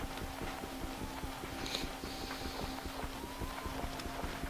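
Repeated digging into dirt inside a video game, heard as a continuous rhythmic patter of short, muffled crunches at low volume, layered over a constant humming tone from the game.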